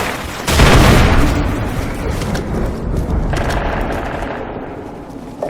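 Heavy, sustained automatic gunfire rattles in Call of Duty 4: Modern Warfare on Xbox 360, close and loud, with a booming onset and overlapping rapid shots and blasts that continue without pause for several seconds.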